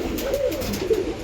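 Pigeons coo in a breeding loft housing many birds, including Malabar, Golden, Teddy and Giribaz types; low, rolling coos come from nearby, overlapping in soft waves with no speech.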